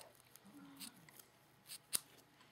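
Scissors trimming, a few faint close snips and small clicks in a quiet room, with one sharper cut near the end.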